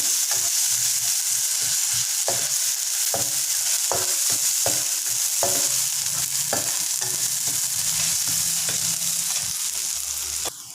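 Green chillies, onion and ginger fry for fried rice in a loud, constant sizzle, with irregular scraping stirs and knocks against the pan close up, and no speech.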